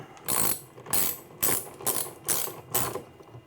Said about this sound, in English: And then we're going to tighten that to there.